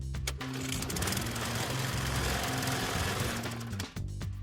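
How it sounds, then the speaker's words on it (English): A lawn mower engine runs with a rapid, steady mechanical chatter and a droning hum that dips briefly near the end, close and fairly loud. "lawn mower,"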